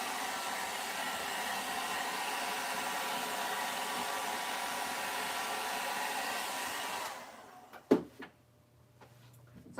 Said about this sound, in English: I'm just drying this part real quickly